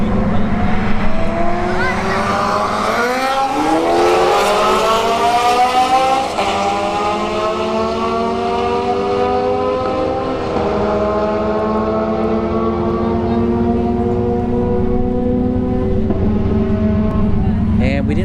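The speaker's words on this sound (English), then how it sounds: "got a Golf GTI left lane, a boosted. I think it's supercharged though. The S2000 in the right lane" A supercharged Golf GTI and a Honda S2000 launch side by side at a drag strip, engines screaming up through rising gear pulls with shifts breaking the climb, loud and close, with announcer talk underneath.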